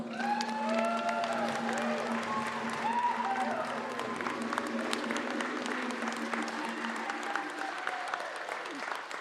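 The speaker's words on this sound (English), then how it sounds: "can we just please have another round of applause for all of our winners?" Sustained applause from an audience at an arts awards ceremony, cheering winners, with steady dense clapping throughout and a held tone plus some voices and whoops rising over it.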